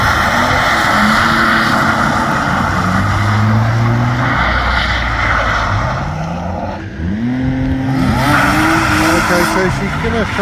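A BMW E46 drifting through a figure-of-eight, engine revving high and rising and falling as it slides, with tire squeal under a loud, close, continuous roar.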